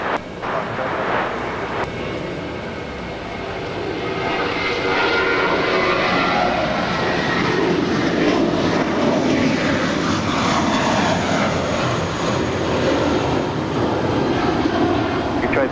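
Alaska Airlines plane, flight 282, taking off on runway 25 at LAX from Foxtrot, a loud, steady engine roar building and holding throughout, with a faint voice briefly at the start.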